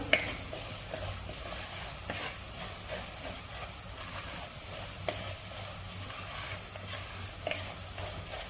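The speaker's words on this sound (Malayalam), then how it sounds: "ഈ മല്ലിപ്പൊടി ഒന്ന് മൂപ്പിച്ചെടുക്കുക." Coriander powder roasts in a pan for Kerala-style beef dry fry, a soft steady sizzle and hiss with occasional light clicks and scrapes of stirring, fairly quiet and without talk.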